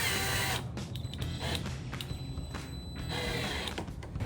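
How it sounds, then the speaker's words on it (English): A power driver sinks a screw into the front splitter lip of a 2018-2023 Mustang GT, a close whirring buzz in short bursts with brief pauses between, fairly faint and without speech. "take our screw, and screw it in"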